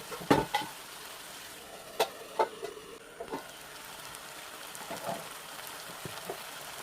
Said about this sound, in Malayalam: നന്നായിട്ട് മിക്സ് ചെയ്ത് കൊടുക്കാം